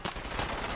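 Rapid, dense machine gun fire in Fallout 4, a continuous burst of loud overlapping shots with no talk over it.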